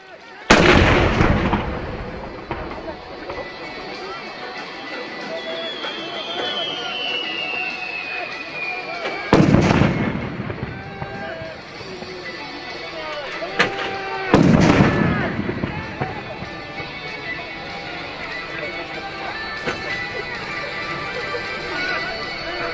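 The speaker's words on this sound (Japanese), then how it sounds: "FH70 が射撃します。" Three loud, booming blasts from an FH70 howitzer spaced several seconds apart, each with a sharp onset and rolling echo, over steady outdoor background noise and faint distant voices at a Japan Ground Self-Defense Force demonstration in Kanazawa.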